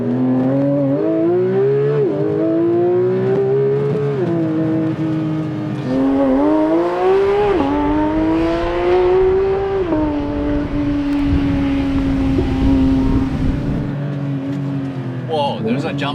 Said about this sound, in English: So every car starts just full acceleration.